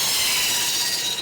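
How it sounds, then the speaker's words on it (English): A steam-powered traction engine turns a flywheel that drives a saw through wood, giving a brief, continuous high rasping and whirring grind heard up close and fairly loud, with no talk. "The tractor is powered by steam, which turns a flywheel mounted on the tractor."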